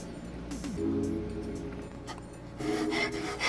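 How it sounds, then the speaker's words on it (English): Hand file rasping along the edges of an aluminum extrusion profile for a DIY open-frame Mini-ITX PC, steady back-and-forth rubbing strokes up close, getting louder and brighter near the end. "I'm using the file. Lots of filing."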